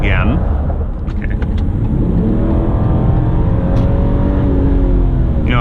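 A 2017 Subaru Legacy 3.6R Limited with a CVT accelerates hard, its engine note climbing in loud, steady revving drone heard from inside the cabin.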